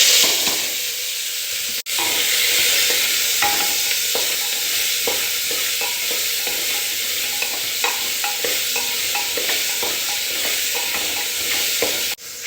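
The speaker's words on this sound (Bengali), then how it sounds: "যত সবজি এখানে ধুয়ে রেখেছিলাম সব দিয়ে দেবো তেলের মধ্যে।" Vegetables and whole garam masala spices fry in hot oil with a steady, dense sizzle and crackle, stirred now and then with soft scraping knocks, continuous and close for the whole stretch.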